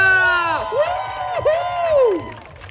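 A crowd cheers and claps for a girl receiving her award at a children's 420-metre charity race ceremony, with a loud sustained voice or whoop gliding over the steady cheering throughout.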